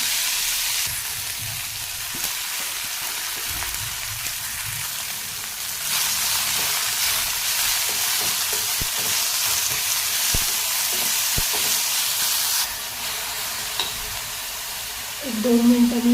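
Chopped fenugreek leaves sizzle steadily in hot oil in a pan while being stirred, with scraping spoon strokes and a louder frying hiss in the middle stretch.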